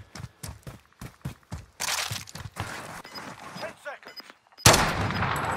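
Gunfire in a video game: a rapid series of sharp shots in quick bursts, then a louder, dense blast near the end, with a voice talking between the shots.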